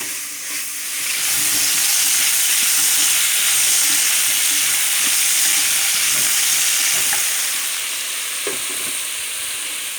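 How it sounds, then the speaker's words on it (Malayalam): Sliced onions sauté in a hot pan for a potato roast, a steady close sizzle and frying hiss that runs throughout with a few faint stirring knocks, no voices. "നമ്മൾക്ക് ഇത് നന്നായിട്ടൊന്ന് വാട്ടിയെടുക്കാം സവാള പകുതി ഒന്ന് മൂത്ത് വന്നോട്ടെ"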